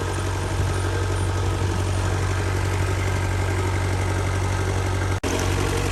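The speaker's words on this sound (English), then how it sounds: "Here's hydraulic cylinders to control every aspect of keeping the log in place while it's cut." A hydraulic sawmill engine with a big bandsaw runs steadily while pine logs are set up, a loud, close, continuous drone with a faint underlying knock, briefly cutting out for a split second near the end.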